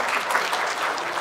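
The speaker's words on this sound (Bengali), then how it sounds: "হাততালি দেন," A crowd applauding in a hall after a speaker's call, a brief dense burst of clapping from many hands, fairly loud and even throughout.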